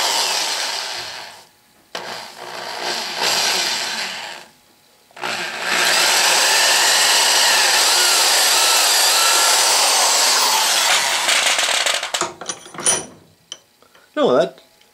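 Drill boring lead out of a wooden decoy weight mold, several bursts of grinding whine with one long sustained run, close and loud, followed by clattering handling noises.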